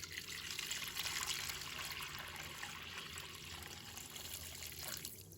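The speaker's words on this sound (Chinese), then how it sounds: "把腊肉放入锅里面，倒入清水没过腊肉" Water pours steadily into a pot over cured pork, a soft, continuous rushing splash heard close and alone.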